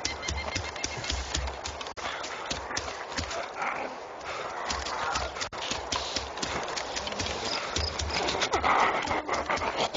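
Horses clip-clopping at a steady, continuous pace on a mountaintop horse farm in a video game, with the hoofbeats close and dense throughout, birds and a distant dog faintly in the background.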